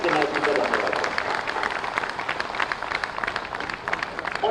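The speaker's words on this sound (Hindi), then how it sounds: "तो हम तालियों की गड़गड़ाहट से योगी आदित्यनाथ जी का धन्यवाद।" At the inauguration of an Air Asia India flight from Lucknow, a crowd breaks into applause to thank Yogi Adityanath, a dense patter of many hands clapping that starts loud and slowly thins over a few seconds.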